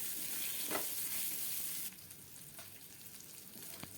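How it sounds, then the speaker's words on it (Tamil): Small shallots and black pepper sautéing in a pan for thoduvalai soup, a soft steady sizzle that drops quieter partway through, with a few faint stirring clinks. "ஒரு பத்து வ சின்ன வெங்காயத்தை ரெண்டாக கட் பண்ணி வச்சுருக்கேன் அதையும் இப்போ சேர்த்து இதை நல்லா வதக்கிடலாம்"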